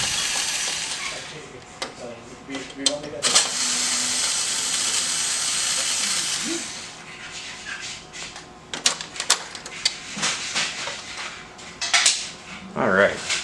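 Screws being removed from the drum cover of a Xerox AltaLink C8000 printer: close, intermittent metallic clicks, rattles and small clattering knocks, with a steady hiss in the first half.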